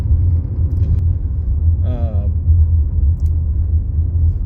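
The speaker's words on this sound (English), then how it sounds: "Can you kind of hear some of those rattles and rumbles from the just vehicle on the road?" Steady low road rumble inside a 2023 Toyota RAV4 Hybrid crossover with unibody construction and independent suspension, continuous throughout, with a short burst of voice partway through.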